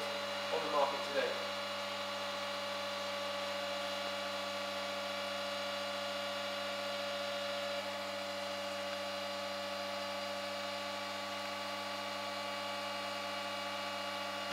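A Bio Commercial Mark 5 cold press juicer works at high pressure near 2000 psi, putting out a steady mechanical hum with faint tonal whine and a few brief knocks at the start.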